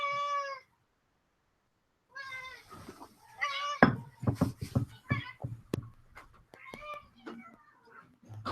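Hungry pet cats meow insistently before feeding, a clear close meow first, then a pause, then a cluster of overlapping meows mixed with sharp knocks and clatter of feeding bowls.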